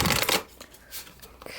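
A deck of tarot cards is riffled and shuffled in a quick burst of papery flutter, followed by a few softer card slides and taps close by.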